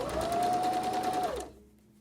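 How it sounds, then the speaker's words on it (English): A sewing machine stitches a fabric face mask with a steady, close motor whir and a rising whine, running for about a second and a half before cutting off into quiet. "now we're going to sew it."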